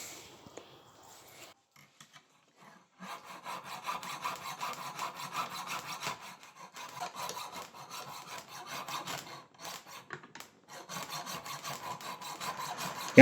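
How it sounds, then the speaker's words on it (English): A hacksaw cuts through part of a cheap ratchet screwdriver in steady back-and-forth rasping strokes, close and moderately loud, after a few quiet, scattered handling noises at the start; there is one brief pause before sawing resumes. "So I'm just going to cut that off with a hacksaw."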